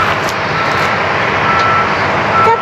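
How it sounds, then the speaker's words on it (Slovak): Reversing truck beeps sound in short repeated pulses over a loud, steady engine rumble at close range, with no talking. "To pípa. Cúva."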